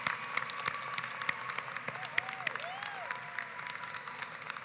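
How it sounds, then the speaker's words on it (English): Steady crowd applause for college faculty at a commencement ceremony, a continuous patter of many hands clapping at moderate volume, with a few brief whistles rising over it. "let's give them a round of applause"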